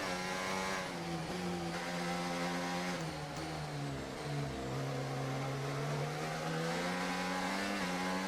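An F1 race car engine in F1 24 screams during an overtake, a continuous high revving whine with pitch dipping through gear changes and climbing again, loud and close with no talking.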